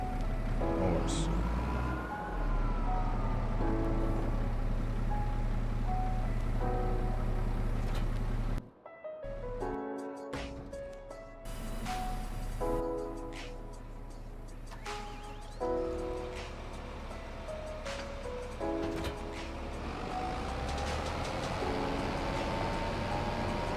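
A 380-horsepower John Deere tractor pulling a planter in Farming Simulator 25 drones with a steady low engine hum and shifting tonal whine, briefly cutting out midway, while someone talks over it throughout.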